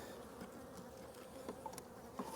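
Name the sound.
honey bees on an open brood frame in a hive box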